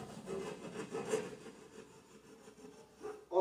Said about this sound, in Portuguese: A serrinha vai entrar na posição horizontal, ó.